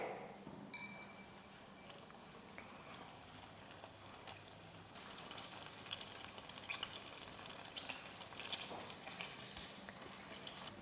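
Ricotta dumplings fry in a pan, giving a steady, close sizzle and crackle that grows busier toward the end, with an occasional light stir.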